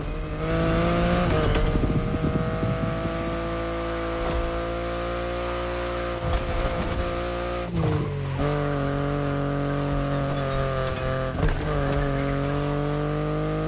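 A BMW i8 driving in the racing game Motorfest, a loud continuous engine drone that rises and shifts in pitch with several gear changes and brief tire noise, without any talk.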